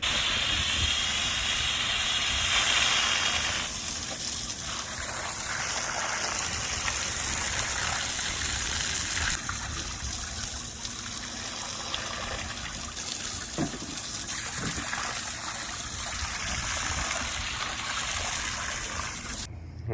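A hose sprays water to rinse down a boat, a steady loud hissing gush lasting throughout and shifting in tone as the spray moves across surfaces, with no one talking.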